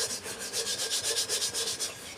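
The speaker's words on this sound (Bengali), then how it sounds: "এটাকে আমি অল্প ভালো করে মেজে পরিষ্কার করে" A cooking pot has its dirty, blackened bottom scoured by hand, giving steady rhythmic rubbing strokes, about ten quick back-and-forth passes at close range with no one talking.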